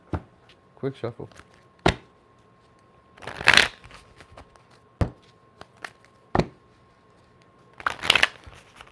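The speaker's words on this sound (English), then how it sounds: "let me get a quick shuffle" Two quick riffles of shuffling playing cards, close up, with scattered taps and clicks between them.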